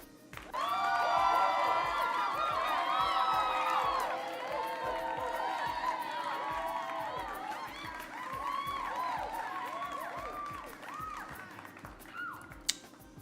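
Cheering and whooping from a crowd during a Steelers fan show, loud and sustained with overlapping excited voices before easing into a lighter murmur toward the end.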